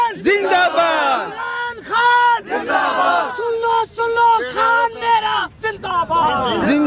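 A large crowd at a political rally at Minar-e-Pakistan in Lahore chants slogans in loud, rhythmic unison. Each call rises and falls in repeated bursts with brief gaps between them.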